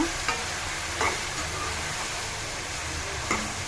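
Mushrooms and whole spices such as cloves, cardamom and cinnamon sizzle steadily in a frying pan for a mushroom curry, while a spoon stirs them with a few distinct scraping knocks over the hiss.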